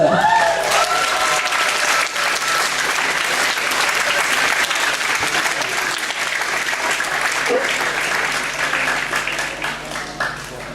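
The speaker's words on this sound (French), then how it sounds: "Normalement, on doit applaudir jusqu'à ce qu'ils arrivent là," Steady, dense applause from a large convention audience greeting a winning cosplay group at an awards ceremony, continuous and loud throughout, with some voices mixed in and tapering slightly near the end.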